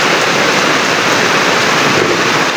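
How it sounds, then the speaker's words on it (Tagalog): Steady, dense rain pours down on a farm field with a continuous broadband hiss, close and loud, with no voices or breaks. "Tapos ayun na nga, umulan na."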